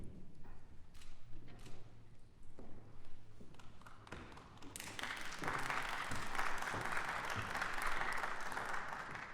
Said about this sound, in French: Ces applaudissements m'engagent à ne pas trop vous décevoir.